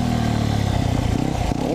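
Motorcycle during wheelie training, engine loud and close with a steady low drone that wavers and shifts as the throttle opens and the brakes come on, no talking.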